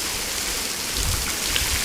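A giant sprinkler at a school sprays water down like a heavy downpour, producing a dense, continuous rain-like roar of droplets pattering on surfaces nearby.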